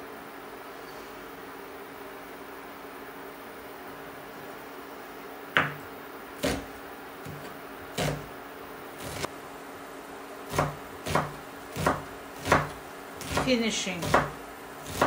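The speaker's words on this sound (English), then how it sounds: "So now I'm dicing this onion." A knife dicing an onion on a cutting board while making kidney bean soup, heard as a string of sharp chopping taps: scattered single strikes at first, then a quicker run near the end, under faint room noise with a brief spoken word.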